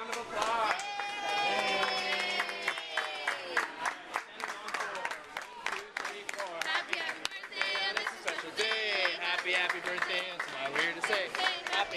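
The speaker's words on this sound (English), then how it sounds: "Let's give a round of applause." Scattered clapping from a small group at a sixth birthday party mixed with voices and sung or cheering tones, lively and close, continuing for several seconds.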